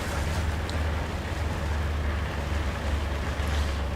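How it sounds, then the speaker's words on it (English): A Russian armored vehicle's engine in the War Thunder video game, a steady low rumble with broad noisy wash and no clear rattle, continuous and fairly loud throughout. "the engine sound is not so clanky like the first BMP"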